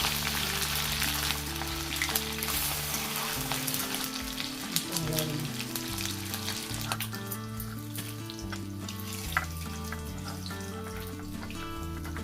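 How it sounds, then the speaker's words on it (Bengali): Hilsa fish pieces frying in hot oil in a pan give a continuous, close sizzle with crackling bursts, alone without talk, while background music plays throughout. "মাছগুলোকে আমি বেশি ভাজিনি, জাস্ট 1 মিনিট এপিট ওপিট করে নিলাম।"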